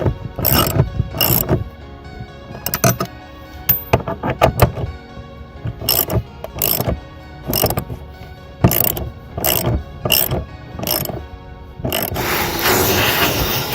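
Bolts being tightened with a ratchet while parts are assembled, giving repeated bursts of clicking ratchet strokes with short pauses between, close and fairly loud, ending in a steadier mechanical rattle.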